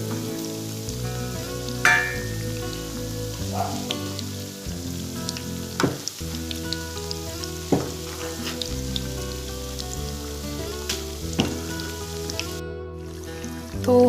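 Gujiya pastries frying in hot oil in a pan, a steady bubbling sizzle that runs throughout with a few louder pops and crackles, close up and with no talking.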